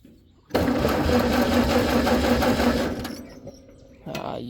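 A battery-started engine cranks with a steady, whirring churn for a few seconds, then fades out, followed by a brief second burst of cranking.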